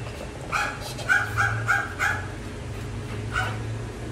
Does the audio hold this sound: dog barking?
yes